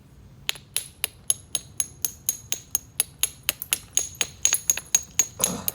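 Sharp, clicky taps ring out as flakes are knapped off a stone nodule, about twenty crisp strikes in steady succession, close and fairly quiet, with a final scraping rustle at the end.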